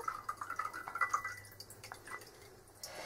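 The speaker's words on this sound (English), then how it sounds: "I'm just going to strain out that water because we don't want all that water." Soaking water strained off dates in a kitchen, quiet dripping and trickling with small irregular splashes that thin out toward the end, close and faint.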